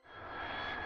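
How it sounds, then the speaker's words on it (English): A fighter jet in a kids' transport video game roars in one brief, swelling burst of engine noise. The sound rises quickly and holds loud for about a second. "Fighter."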